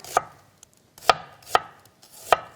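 A knife thinly slicing onion on a cutting board for caramelizing in a roasted vegetable curry: four sharp, close chopping knocks at uneven intervals, each brief and crisp, with near silence between them.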